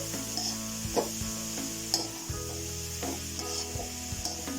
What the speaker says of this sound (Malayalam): ഈ തേങ്ങ ഉള്ളി ജീരകം അതിൻ്റെയൊക്കെ ഒരു പച്ചമണം മാറി കിട്ടണ വരെ ഒന്ന് ഇളക്കി കൊടുക്കുക നന്നായിട്ട്